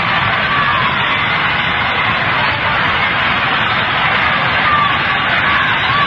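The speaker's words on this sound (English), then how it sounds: "Crowd beginning to cheer now." Huge baseball stadium crowd at the 1959 World Series, game 3, White Sox versus Los Angeles, a dense, steady roar of many voices swelling as cheering begins, heard through old broadcast-quality noise.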